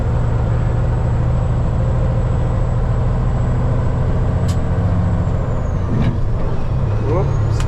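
Truck with its engine brake engaged, a loud continuous low rumbling drone heard from inside the cab, with a brief hiss and squeal near the end.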